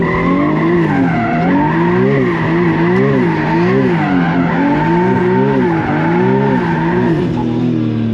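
Tires squeal in a long, wavering screech as a turbocharged manual-swapped car drifts, pitch sliding up and down with engine roar underneath, loud and continuous.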